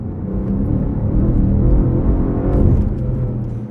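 A BMW M5 CS tuned by G-Power to 800 PS pulls hard with its wheels spinning, a loud, steady, deep engine roar and whir close by, with no voices.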